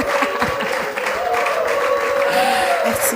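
An audience at a French-language church gathering welcomes a guest, a sister introduced to the crowd, with steady clapping and cheering that continues throughout. A voice is heard over the crowd.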